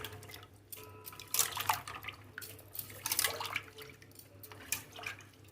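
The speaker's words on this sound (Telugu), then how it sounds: "ఈ నీళ్ళు పడేసి మళ్ళీ ఇంకోసారి కడుక్కున్నాం ఇప్పుడు రెండుసార్లు కడిగేసాను" Water splashes and drips in bursts as cauliflower is rinsed in a bowl, with gentle trickling between louder sloshes.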